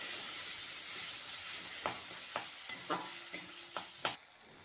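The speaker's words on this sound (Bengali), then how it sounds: "বাটা মশলাটাকে খুব ভালোভাবে কষিয়ে নিতে হবে।" Ground cumin spice paste being sautéed in a pan, a soft steady sizzle with a quick run of about seven spatula scrapes and taps toward the end.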